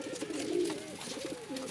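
A three-year-old racing pigeon coos close by in a steady, throaty, wavering call lasting under two seconds.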